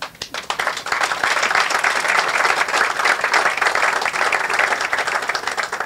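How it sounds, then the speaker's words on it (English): A crowd at a groundbreaking ceremony for a commerce center in Flint applauds steadily, a dense, sustained wash of clapping that holds loud and even for several seconds without speech. "Give yourself a round of applause"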